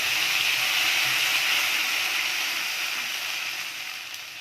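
Spice paste hits hot oil in a pan already holding cardamom, cinnamon and bay leaf, giving a loud, steady sizzle and hiss that eases slowly toward the end.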